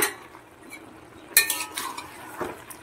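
Fried hilsa fish heads are stirred into a malabar spinach curry in a pan: a soft simmering hiss, then a sharp utensil clatter and a few scraping strokes against metal, close and without talk.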